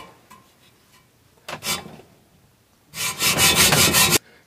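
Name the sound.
hacksaw cutting through a metal frame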